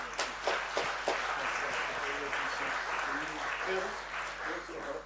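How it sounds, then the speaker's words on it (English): A crowd applauds at a women's open club softball grand final, a moderately loud wash of clapping with a few sharper claps early, while voices murmur underneath throughout. "they all are deserving of your round of applause."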